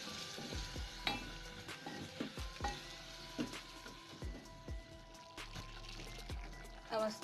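A thyme meat stew with garlic and ginger gets mixed in a pot: quiet, close scraping and clinking of a spoon in irregular strokes over a faint low sizzle, with no talking.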